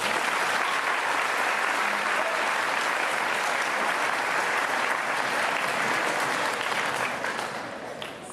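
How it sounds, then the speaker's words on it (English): Sustained, steady applause from an audience honouring students at a school veterans salute ceremony, a full room of clapping hands continuing evenly for several seconds before starting to fade. "Please give these students a round of applause."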